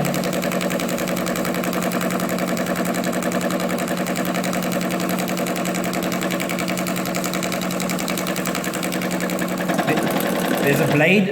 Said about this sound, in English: I am just going to be doing some top stitching for this operation